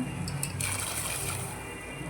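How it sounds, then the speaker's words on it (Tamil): Half a litre of water splashes and gushes steadily into a cooking pot, a continuous sloshing pour with no voices over it. "ஒரு பாத்திரத்தில் அரை லிட்டர் தண்ணி ஊற்றி நல்லா கொதிக்க விட்டுக்கலாம்"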